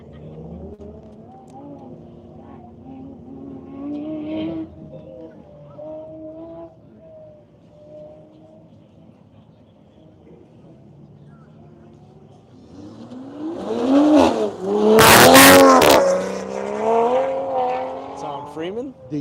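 A Toyota Supra launches hard off the start line at a 2025 drag racing event at Grissom AFB. The engine builds into a loud, rising roar with a sharp burst as it pulls away. Commentators talk over it throughout.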